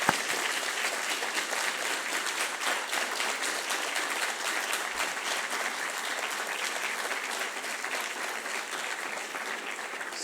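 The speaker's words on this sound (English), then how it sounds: "I would like to ask a round of applause for them" A conference audience at an award ceremony applauds the review panel in sustained, dense clapping that holds steady and loud for about ten seconds, with no speech over it.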